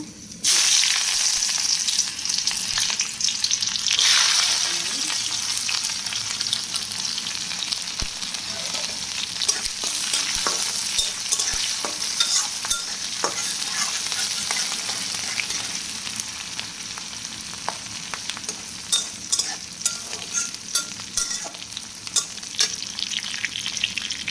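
Bay leaf and black cumin sizzle and fry steadily in hot oil, a dense crackling hiss with scattered pops that runs continuously throughout, close and fairly loud, with no voices.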